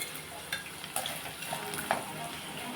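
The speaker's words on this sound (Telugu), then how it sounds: "అప్పుడు మినపప్పు, శనగపప్పు వేస్తాను. నూనెలో బాగా వేగితే మనం తినేటప్పుడు బాగుంటాయి." Urad dal and chana dal frying in hot oil, a steady close sizzle with occasional stirring clicks and small pops, no talk.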